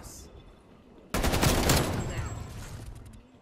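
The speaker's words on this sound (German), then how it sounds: "Sauberer Schuss." In the video game Call of Duty Black Ops Cold War, gunfire suddenly breaks out after a quiet moment as a loud burst of rapid automatic shots, followed by a fading, rumbling tail.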